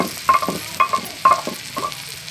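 Onion with peanuts, tomato and chillies sizzles in oil. Four rhythmic stirring scrapes cut through a steady close frying hiss.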